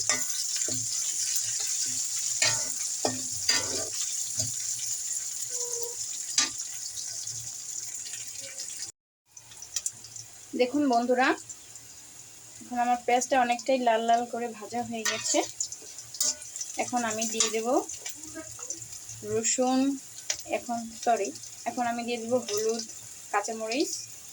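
Duck frying in a pan sizzles steadily as whole green chilies go in, the hiss and occasional stirring clatter running under someone talking for most of the stretch.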